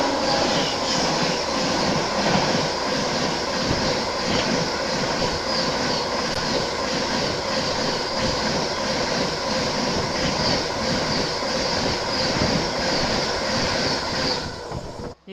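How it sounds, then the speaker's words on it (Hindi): The Patna Tejas Rajdhani express, an LHB rake, thunders past close by during an overtake: a loud, continuous rumble with rhythmic wheel clatter that holds steady for about fifteen seconds, then cuts off. "अपनी पटना तेजस राजधानी वो भी आ चुकी है, उसका भी ओवरटेक देख ही लीजिए। ये आ गए पटना तेजस राजधानी।"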